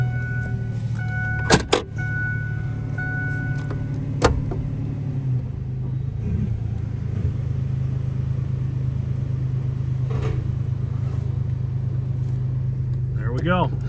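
A Ford Ranger's 3.0 Vulcan V6 idles steadily after a fresh starter install, a low continuous engine rumble with a couple of sharp clicks early on, heard close up and alone.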